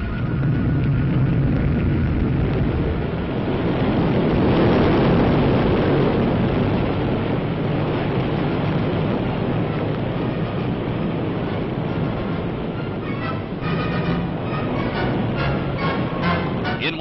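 A four-stage Jupiter C rocket lifting off at Cape Canaveral, a loud, sustained roaring rumble that holds steady and swells slightly, heard as an old, band-limited recording without speech.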